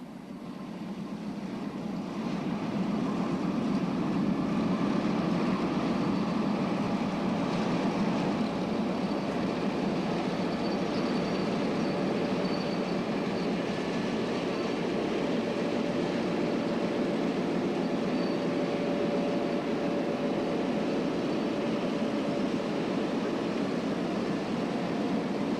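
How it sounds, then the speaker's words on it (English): An EMD F unit diesel locomotive on the Lehigh Valley rolls slowly through depot trackage hauling a high, wide load, a steady low engine rumble and rolling drone holding at a constant level throughout, with no voices. "An F unit eases through the depot's trackage with a high, wide, and long load"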